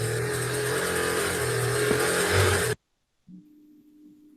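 A scooter engine revs loudly and steadily in the background for nearly three seconds, then cuts off abruptly into silence before a faint, low hum returns.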